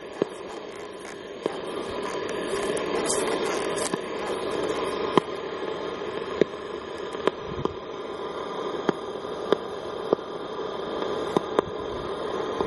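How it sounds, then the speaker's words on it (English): Steady low electrical hum with faint static hiss, broken by sharp periodic clicks every second or so; no voices. "I can still hear some magnetic noise this far away."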